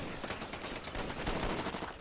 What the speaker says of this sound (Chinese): 听枪声，像是检查站的方向。